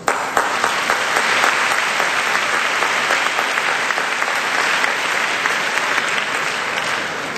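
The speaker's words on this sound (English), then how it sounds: "Another round of applause." Loud, sustained audience applause at the Cannes Lions 2008 awards gala, a dense wash of clapping held steady for over seven seconds.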